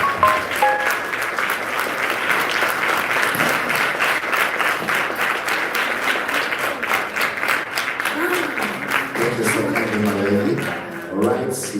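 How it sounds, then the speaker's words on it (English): A large audience applauds and claps steadily at an event, the dense clapping filling the room throughout, with a voice speaking over it near the end. "ngicela sinikeze a big round of applause"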